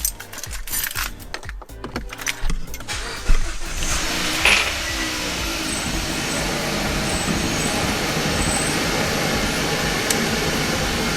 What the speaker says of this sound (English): And it's not as bad but it is misfiring.